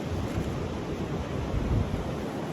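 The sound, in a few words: wind blowing at the beach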